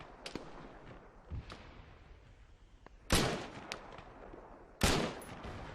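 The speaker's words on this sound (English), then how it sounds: "it took me about 4 shots, but I got there in the end" Mk-1 EMR marksman rifle shots in Arma 3, several sharp cracks spaced seconds apart with two loud close reports standing out, over quiet outdoor ambience.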